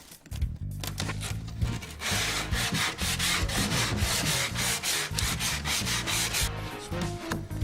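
Wood is sanded with steady, scratchy back-and-forth strokes, loud and close, with no talking.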